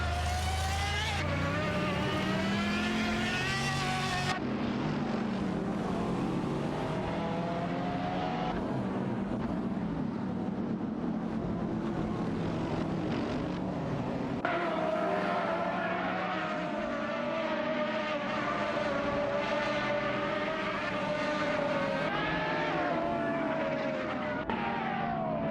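Race car engines from an AI racing video game, with a Lamborghini Reventon among the field, roar continuously and loudly, their pitch rising and falling as cars jostle for position.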